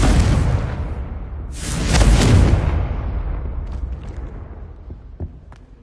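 The fiery Confringo blast in Hogwarts Legacy booms with a loud rumbling burst that swells and then fades, followed by a few faint clicks and crackles.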